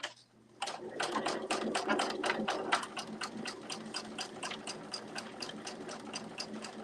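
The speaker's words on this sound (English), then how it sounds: "Now, I'm top stitching from the lining side." Sewing machine top stitching a fabric backpack from the lining side, a quick run of rapid needle clicks after a short quiet start, then slower, evenly spaced stitches ticking steadily up close, with no talking.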